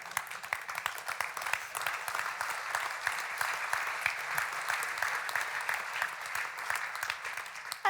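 Applause from a conference audience rolls on steadily and fairly softly, a dense, even patter of many hands clapping at a distance with no speech over it.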